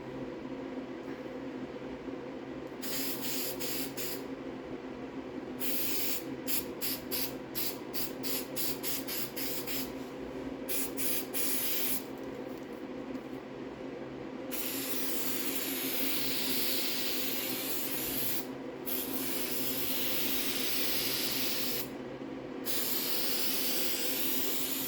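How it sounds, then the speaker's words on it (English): Spray adhesive hissing from an aerosol can onto a Triumph TR6 seat cover in a workshop, several separate bursts of varying length, some short and rapid, others long and steady, close to the microphone. "I'm just going to spray it first."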